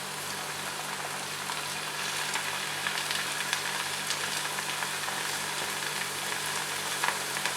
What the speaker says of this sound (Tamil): ஸோ நல்லா தான் ஃப்ரை ஆகுது.